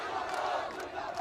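Thousands of people at a protest rally by Christians over religious conversion in Raipur, a dense crowd shouting together in a brief roaring burst of massed voices.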